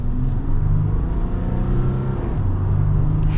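A Ram pickup with the EcoDiesel engine accelerates, its engine drone rising and holding in a steady, fairly loud, close hum for a few seconds, with no one speaking.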